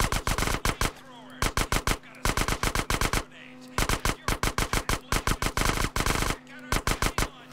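A GTA San Andreas shootout erupts in rapid automatic gunfire, bursts of loud, closely spaced shots separated by short gaps, with a faint voice underneath.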